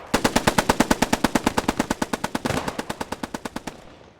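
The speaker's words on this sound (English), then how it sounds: "The MG coverage is insane." Sustained machine gun fire in Post Scriptum, a loud, rapid, evenly spaced burst of about thirty rounds with a trailing echo at the end.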